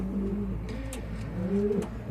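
Pigeons coo at the loft in the evening, soft low rolling calls rising and falling in a couple of overlapping phrases, close by and with no talking.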